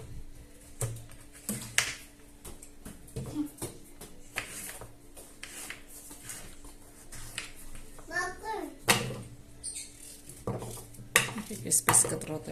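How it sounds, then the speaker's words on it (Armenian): A pumpkin is cut up in a home kitchen, giving sharp, irregular knife knocks and clinks against the board. A child and an adult talk around the chopping. "հիմա դդումը կկտրատեմ"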